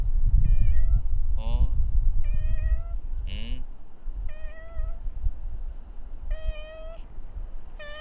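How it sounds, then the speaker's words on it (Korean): A former stray cat meows repeatedly at close range, with short plaintive calls spaced every second or so over low background rumble and handling noise. "뭉구는 2022년도에 길냥이였었어요."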